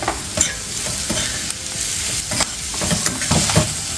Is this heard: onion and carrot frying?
yes